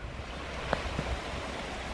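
Sea waves wash steadily near a campsite on the south coast of Spain, a soft continuous surf hiss with wind, and a couple of faint knocks.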